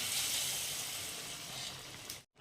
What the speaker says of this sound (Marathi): ही काळ्या तिखटाची फोडणी ती ह्या रम्यावर टाकून घ्यायची